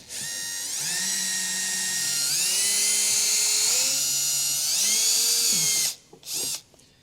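A power driver backs out three T15 screws from the wheel well liner of a 2020 vehicle, a loud, steady high-pitched whine with pitch shifts that runs about six seconds, then two short bursts.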